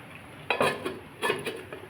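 A lid set onto a cooking pan of bottle gourd greens and fish head being simmered in water, giving two short metallic clinks about a second apart, close and moderately loud, with no talking.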